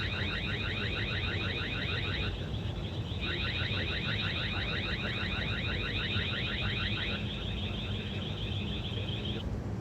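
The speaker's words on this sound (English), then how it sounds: "So just take a listen to the alarm" A loud motion-triggered siren from a TP-Link Tapo C402 solar security camera warbles in rapid repeating pulses, pausing briefly twice before resuming, with a steady low hum underneath.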